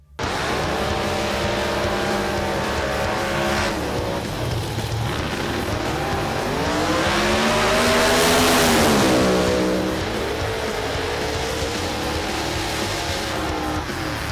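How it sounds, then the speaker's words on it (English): Supercharged big-block drag racing cars with blown engines do burnouts at Sydney Dragway, a loud continuous engine roar with rising and falling revs and a broad hiss of spinning tyres that swells toward the middle. "Supercharged Outlaws is big blocks, blown engines and big burnouts"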